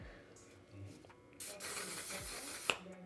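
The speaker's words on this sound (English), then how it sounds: "so let's spray the face." Hissing mist of a One Size setting spray sprayed onto a face during a makeup routine, a sustained close airy spray for over a second, followed by a sharp click near the end; quiet background otherwise.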